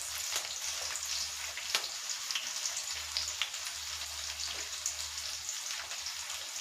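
Onions and green chillies frying in hot oil with cumin seeds make a steady close sizzle with scattered crackles and pops, with a low hum underneath and no talking.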